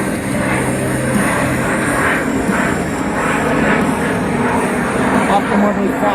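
Steady roar of an RAAF F/A-18 Hornet flying a slow pass at an airshow, loud and continuous throughout, with a voice audible underneath.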